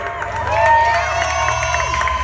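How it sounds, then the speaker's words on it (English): Crowd at an outdoor Gaza solidarity rally at Vancouver City Hall clapping and cheering, a continuous roar with shouts and whistles rising and falling, fairly loud and close. "clap if you're indigenous"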